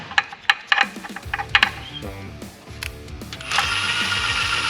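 Tools working as a torque converter is bolted to a 7.3L Godzilla engine block during a Fox Body swap mock-up, with quick ratchet clicks and metallic taps giving way to a sustained whirring power tool, loud and close.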